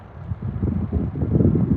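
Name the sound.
wind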